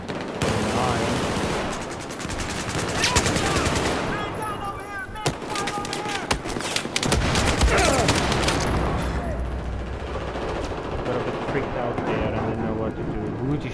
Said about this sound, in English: Because there was three people shooting at me.